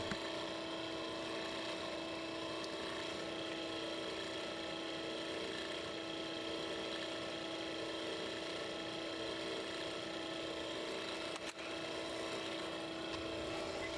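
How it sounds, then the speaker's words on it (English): An SSH pump motor runs at steady power with a constant hum and strong tonal drone, unchanging throughout apart from a single brief dip near the end, with no talk. "While the motor is running,"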